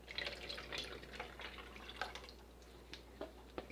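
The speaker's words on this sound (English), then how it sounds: "I think I'm going to actually pour this back into my lye container so I have enough space." Lye solution poured from one container back into another during cold process soap making, a thin irregular stream of trickles and drips, soft and close, with no voices.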